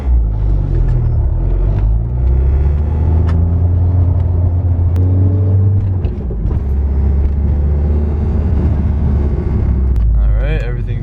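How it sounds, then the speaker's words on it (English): A Volkswagen Golf R MK6 fitted with a big turbo, and burning oil, drives slowly along neighborhood streets. Its engine gives a loud, steady low rumble that swells slightly with gentle throttle throughout. "I'm gonna take it for a little drive."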